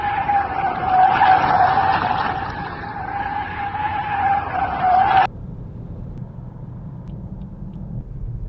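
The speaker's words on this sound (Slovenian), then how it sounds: "A veš, kako izgleda rode v električnem avtu?" An electric Smart car skids during rodeo-style driving, a loud sustained tire squeal over engine rumble for about five seconds before cutting off abruptly, leaving a lower steady rumble, with no talking.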